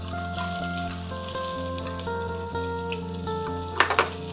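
Green beans fry in oil in a pan, giving a steady sizzle under a background of tonal hum, with a few louder crackles near the end.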